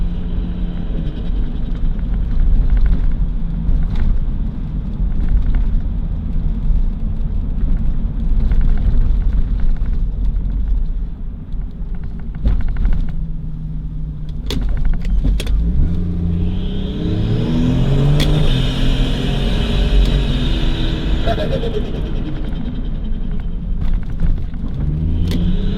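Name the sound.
Nissan Patrol TB45 turbo engine revving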